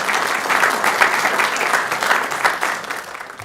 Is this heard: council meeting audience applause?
yes